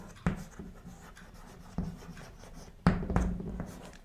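Marker or chalk strokes on a board while angle labels are written out during a geometry lesson, with three distinct scratchy bursts of writing separated by quiet pauses, close and fairly clear.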